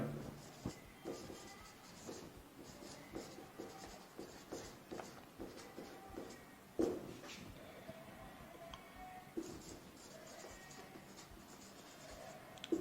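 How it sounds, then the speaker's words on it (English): Handwriting out the Pythagorean theorem during a maths lesson: a series of quiet, irregular scratchy pen strokes and taps, with a sharper knock midway, over faint room tone. "let us write what is Pythagoras theorem"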